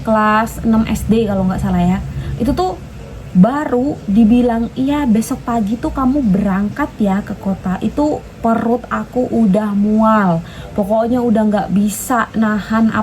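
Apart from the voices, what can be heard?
No distinct noise like a dog, phone or traffic.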